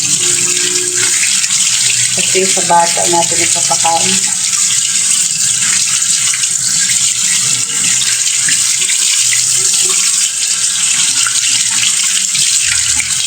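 Tap water runs steadily into a sink while moringa leaves are rinsed, with a few splashes. A voice speaks briefly near the start.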